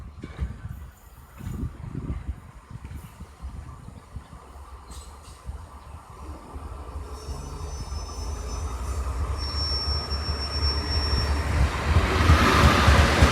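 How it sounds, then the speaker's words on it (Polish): An Intercity Górski passenger train from Szczecin Główny to Rzeszów Główny pulls into Rzepin station, its low rumble building steadily from faint to loud as it nears, with a thin high squeal of wheels on rails. "Wjeżdża pociąg Intercity Górski relacji Szczecin Główny, Rzeszów Główny."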